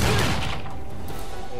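Gunfire from Hol Horse's revolver in the video game JoJo's Last Survivor, a burst of dense overlapping shots and thuds at the start that fades into a busy, continuous game-audio bed, with a voice mixed in.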